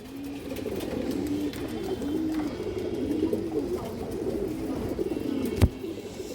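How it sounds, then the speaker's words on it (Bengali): Pigeons coo steadily in a low, rolling chorus, with a sharp knock near the end; these are palla-type fancy pigeons with black tails, kept in a loft. "পাল্লার কবুতর"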